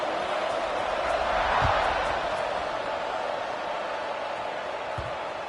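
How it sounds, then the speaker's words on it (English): A stadium crowd in the College Football 26 video game keeps up a dense, steady roar that swells slightly, with a couple of faint thumps underneath. "this crowd is buzzing after that last score"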